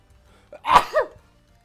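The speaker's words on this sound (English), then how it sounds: "I need to sneeze." A single short human sneeze, a sharp burst followed by a brief voiced tail, close and clear against near silence.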